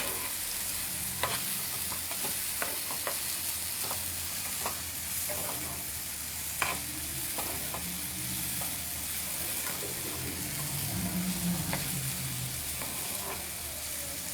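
A pan on the stove sizzles continuously while something is stirred and fried until it reddens, with intermittent scraping clicks from the spoon. Steady, close and without speech.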